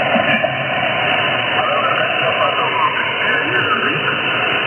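A radio receiver puts out a noisy, band-limited signal with a faint voice buried under steady hiss and crackle, and a noise filter changes the texture, continuous throughout.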